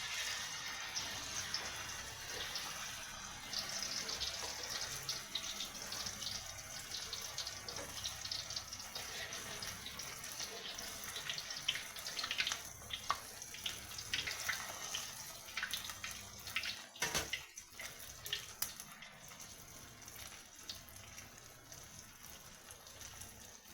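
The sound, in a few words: jute leaf fritters frying in hot oil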